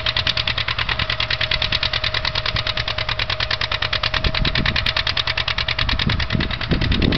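A John Deere 630 diesel tractor pulls a three-bottom trailer plow through a field, its engine chugging in a fast, even, pulsing rhythm, close and steady throughout.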